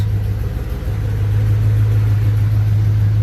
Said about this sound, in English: I do have an exhaust leak that I do need to address